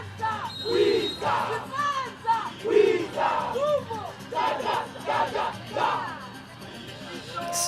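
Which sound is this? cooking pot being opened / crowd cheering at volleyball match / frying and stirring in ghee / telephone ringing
crowd cheering at volleyball match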